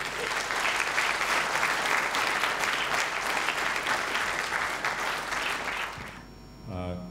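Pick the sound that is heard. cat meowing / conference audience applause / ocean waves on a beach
conference audience applause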